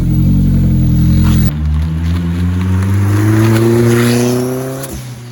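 Loud, close engine of a Honda-powered VW Bug built on an MR2 chassis, running under boost: a steady high idle drops, then rises in a smooth rev climb before tapering off, with no talking.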